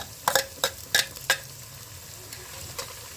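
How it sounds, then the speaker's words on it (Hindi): Two medium tomatoes drop into a pan of frying ginger and garlic, followed by a handful of sharp stirring scrapes and clanks over a soft, steady sizzle, then a quieter stretch with one faint knock. "अब हम इसमें 2 हमने दरमियाने साइज के टमाटर लिए हैं, ये डालेंगे।"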